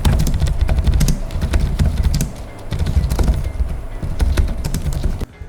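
Keystrokes on an Acer Nitro 5 gaming laptop's soft, quiet keyboard, a steady stream of close, muted taps in quick irregular bursts with no talking.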